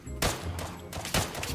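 Rapid gunfire bursts in the shooter game Arena Breakout, two loud, dense volleys of overlapping shots separated by a short gap, close and continuous, with no talk in between.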